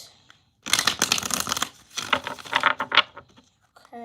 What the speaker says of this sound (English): I'm going to do 3 shuffles